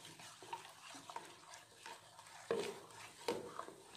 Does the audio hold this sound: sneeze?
no